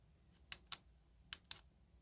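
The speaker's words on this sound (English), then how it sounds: "this is a so smooth click" A Unomax Lumina retractable ball pen with black body and copper trim, clicked twice in quick succession and then twice again; crisp, close, light clicks over near silence.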